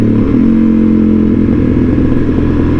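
A Suzuki DRZ400SM supermoto single-cylinder engine runs loud and close, a steady throbbing rumble with a fast, even pulse that holds throughout, and no speech.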